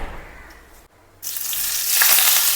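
Onion and curry leaves dropped into hot oil in a granite-finish aluminium pan, a short quiet pause then a loud sizzle that flares up and keeps crackling steadily.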